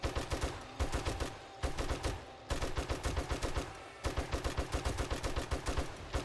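Rapid bursts of automatic gunfire from the survival video game 7 Days to Die, loud and close, firing in steady rhythmic volleys separated by a few brief pauses.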